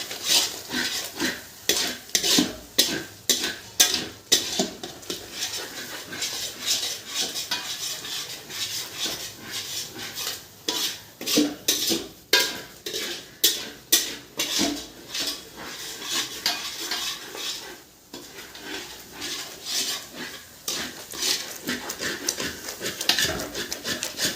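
Chicken chaap being stirred and cooked in a metal pot, with a steady run of sharp spoon scrapes and clanks against the pan over a soft sizzle, close and fairly loud throughout.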